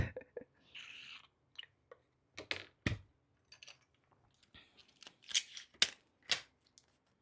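Scissors snip in a series of crisp, close cuts, irregularly spaced with pauses between, fairly quiet with no talking.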